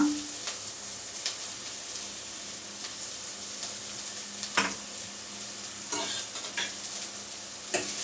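Capsicum fries in hot oil for fried rice, a soft continuous sizzle broken by several sharp scrapes and clinks of a spoon stirring the pan, fairly quiet and without talk.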